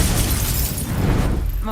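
A Bombarda explosion spell in Hogwarts Legacy erupts as a loud, dense roar of blast noise that fills the whole moment and thins slightly at the end.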